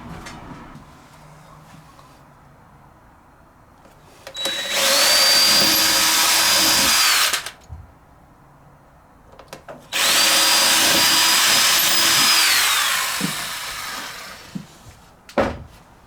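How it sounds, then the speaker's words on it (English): An electric drill with a 2mm bit whirs at high speed through cork bed and baseboard in two bursts of about three seconds each, close and loud, with brief quiet and small clicks between. "I'm just going to use a 2mm drill bit going straight through the cork bed and through the baseboard"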